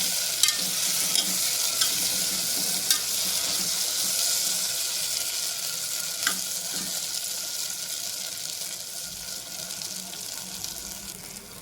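Stuffed brinjal roasting in oil in a pan for Andhra-style gutthi vankaya curry, a steady close sizzle with soft scraping stir strokes and occasional light clinks throughout.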